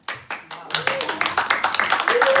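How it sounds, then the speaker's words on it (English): Audience applause at a live UK awards press conference following the nominees announcement, starting with a few scattered claps and swelling into steady, fairly close clapping, with a voice briefly heard over it. "Round of applause"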